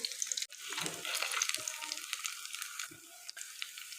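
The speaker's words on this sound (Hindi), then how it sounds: "अब इनको भी अच्छी तरह यहाँ से भी गोल्डन फ्राई कर लीजिए" Vegetable kebabs fry in oil in a pan after being flipped, a soft, faint sizzle with light crackles and a brief handling knock.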